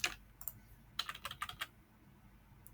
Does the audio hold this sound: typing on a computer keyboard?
yes